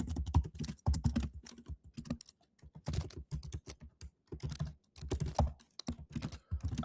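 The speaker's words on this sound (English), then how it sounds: "The idea is that I type an asset name," Fingers type rapidly on a computer keyboard up close, in busy bursts of clattering keystrokes broken by brief pauses.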